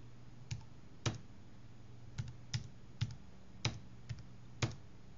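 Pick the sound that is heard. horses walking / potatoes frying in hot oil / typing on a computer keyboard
typing on a computer keyboard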